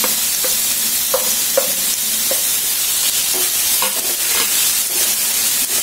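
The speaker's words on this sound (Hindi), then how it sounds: "और वापस इसको अच्छे से भूनना है।" Onions, tomatoes and green chillies for pav bhaji frying slowly over low heat in a pan, a steady loud sizzle broken by scraping stirs of a spoon.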